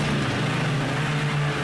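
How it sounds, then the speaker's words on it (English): An on-board race car engine at Donington Park drones loud and close in a steady, buzzing tone, held with little change as the driver lifts off the throttle. "I'm sure we'll get a replay on board with Blakeney so we can hear the car"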